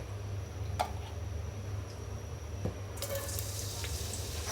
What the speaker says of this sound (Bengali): সো মেইনলি এখন এখানে পেঁয়াজ বেরেস্তা করা হবে